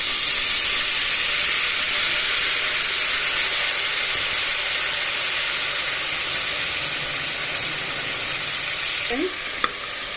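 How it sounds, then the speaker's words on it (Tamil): Soaked chickpeas go into hot oil with mustard seeds and curry leaves for channa masala, a loud, close, steady hiss of frying that dips slightly in its final second. "கருவேப்பிலை ஆட் பண்ணிட்டு நம்ம இப்போ ஊற வச்ச சென்னாவை போட்டுக்கிறோம்"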